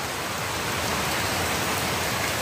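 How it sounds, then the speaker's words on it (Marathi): Steady rain pours down, a dense, even hiss of drops on surfaces close by, with no voices. "पाऊस बघ तर कसा आला बघायला."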